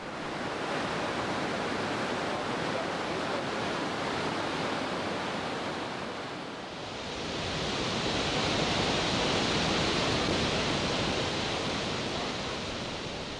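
Iguazu Falls roars as a steady, dense rush of water, loud and unbroken, swelling slightly brighter partway through.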